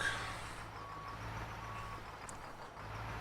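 A semi truck reverses in a trucking simulator game, its backup alarm sounding a few evenly spaced beeps over a steady low engine idle.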